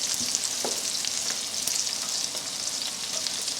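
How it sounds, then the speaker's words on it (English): Onions and black bean sauce fry in a pan for a beef stir-fry, giving a steady, close hiss of sizzling with occasional faint stirring clicks and no voices. "Just going to fry that for about a minute."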